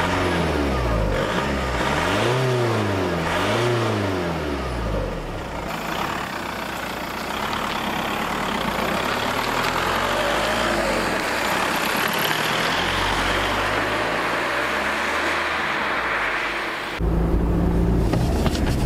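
A Volkswagen Passat B5 with the 1.9 TDI diesel engine catches and runs, its rough diesel note rising and falling through a few revs before settling into a steady, loud idle.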